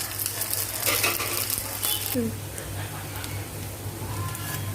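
Vermicelli frying in a pan on a low flame, a soft continuous sizzle with stirring scrapes and a brief clink of a utensil against the pan, no talk.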